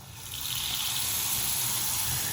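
Steady rushing water runs from an open faucet while a water heater tank is drained after its pressure is relieved, a continuous close gush with no pauses.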